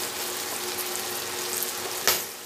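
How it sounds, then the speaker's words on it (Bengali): Ground spices fry in oil in a pan for a hilsa fish head and ash gourd ghonto, giving a steady low sizzle with a sharp clatter near the end. "মশলাটা দেখুন মোটামুটি ভাজা হয়ে গেছে, গুঁড়ো মশলা তো বেশি ভাজতে হয় না।"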